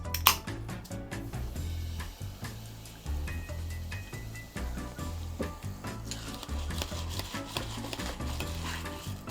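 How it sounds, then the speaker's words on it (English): A spoon stirs a highball glass of crushed ice topped with fresh soda, giving close clinks and rattles of ice over a steady fizzy hiss, with no talk. "Again, just a little stir, keep this ice inside."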